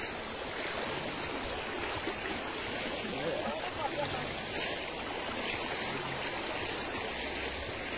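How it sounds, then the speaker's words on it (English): Floodwater rushes through a residential lane in St Catherine, a steady, broad wash of running water that fills the whole clip up close, with faint voices mixed in beneath it. "is there the water running?"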